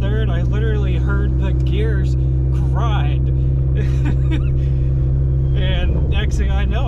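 A Dodge SRT4 race car at a track, loud steady engine drone with whining gear tones rising and shifting, then a rough grinding change near the end as the transmission crunches.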